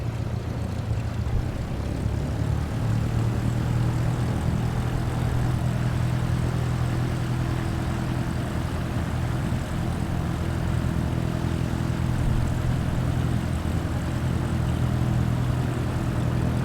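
Steady, loud, droning aircraft engine in a flight simulator on takeoff, with a continuous low hum and gradual pitch rise and no speech.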